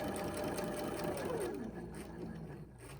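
A sewing machine stitches a quilt border, running as a close, steady mechanical whir with rapid needle ticks that slow and fade toward the end, alone without talk.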